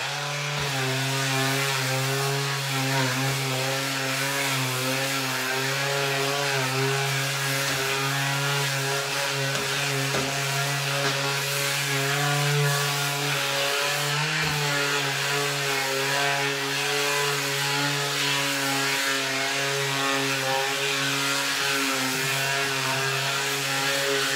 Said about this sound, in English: I have 120 grit sandpaper on here. I personally love the Ryobi tools.